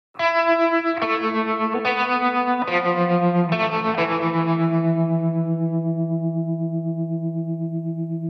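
Electric piano chords, roughened by fuzz and tremolo, struck about five times in the first four seconds, then one last chord held and ringing out in a long reverb tail just over three seconds. The sound is clear and close, with no voices.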